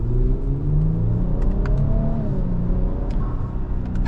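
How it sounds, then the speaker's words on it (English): 2026 Infiniti QX80 Autograph engine heard from the cabin while driving at around 45 mph, a steady low rumble with a subtle rising drone and faint road noise, moderately loud and continuous. "You can hear the engine a little bit, but it kind of has that nice sound to it"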